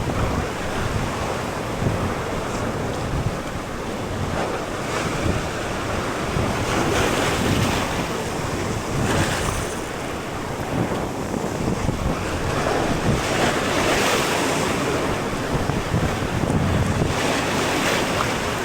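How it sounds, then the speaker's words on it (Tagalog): Heavy ocean surf and strong wind buffet a fishing boat at sea, a continuous loud wash of breaking waves with wind rumbling across the microphone throughout, no voices. "Laki ng alon, nakakatakot."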